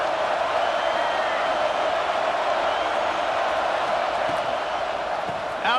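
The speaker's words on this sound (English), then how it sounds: "This crowd ready to make its presence known." Crowd roar at a Michigan vs Florida college football game in a stadium, a loud, steady wall of crowd noise holding at the same level throughout with no breaks.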